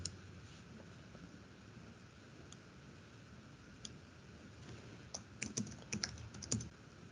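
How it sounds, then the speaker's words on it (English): Quiet, steady typing on a computer keyboard over a faint background hiss, picking up into a quicker flurry of clicks toward the end. "So finish typing that."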